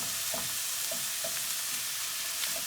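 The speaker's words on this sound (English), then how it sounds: "Sounds like it's also sizzling over here" Meat sauce with tomatoes and mushrooms sizzles in a pan, a steady bright hiss with a few soft stirring clicks, close and continuous with no talking.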